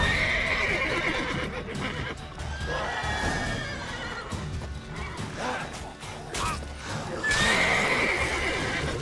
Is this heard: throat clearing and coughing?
no